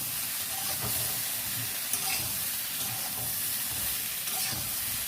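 Soaked chickpeas and spices stirred into nota greens in a pan for a village-style chorchori, a steady close sizzle with soft, rhythmic scraping and shuffling as the mixture is turned.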